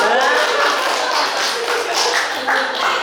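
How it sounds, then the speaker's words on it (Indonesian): A group of participants in an Indonesian teachers' workshop on positive school culture claps hands to thank a colleague, a brief burst of close, busy clapping lasting a few seconds. "Terima kasih Pak Kiki, tepuk tangan."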